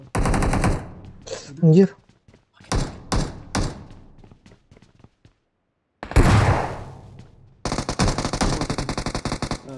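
Uzi submachine gun fire in the battle game PUBG, rapid automatic bursts that come in several close, loud volleys with short gaps between them, while players exclaim over the shooting.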